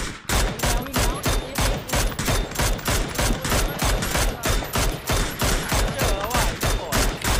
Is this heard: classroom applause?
no